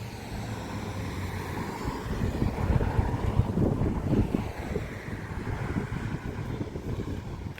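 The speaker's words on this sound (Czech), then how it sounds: "Jestli slyšíte vítr, tak sorry. Tady fučí docela dost." Strong wind buffets the microphone outdoors, a continuous low roar that swells in gusts toward the middle and stays loud, with no voices present.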